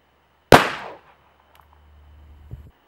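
A single sharp gunshot from a .38 Special firing a jacketed hollow point round cracks loudly and decays quickly, followed by faint low rumble and a small knock near the end.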